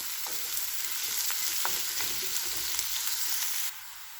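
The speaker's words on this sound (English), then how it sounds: "Saute the onions." Onions sautéing in hot oil with red chillies for a South Indian chicken dish, a steady bright sizzle with occasional pops and stirring clinks, close and continuous before dropping off abruptly near the end.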